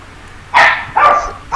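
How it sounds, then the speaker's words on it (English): Dog barking indoors, three sharp barks spaced about half a second apart, loud and close, with no talking. "Sorry if you could hear my dog."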